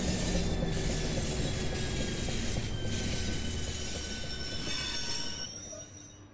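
A Class 465 electric multiple unit slows to a halt on the Chatham Main Line in Train Simulator, with a steady rumble, high wheel squeal and faint rail clatter that fade as the train comes to rest.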